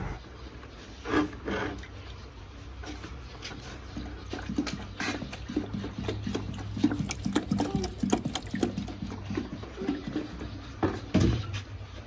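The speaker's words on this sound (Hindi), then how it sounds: "पानी बाल्टी में डाल दिया है" Water poured into a bucket, an uneven sloshing and splashing with knocks and rubbing sounds, fairly faint.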